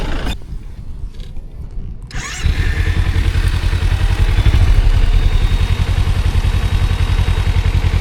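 A motorcycle ride on an open road: after a brief quieter lull the engine rumbles up and holds a loud, steady mid-pitched drone with wind noise.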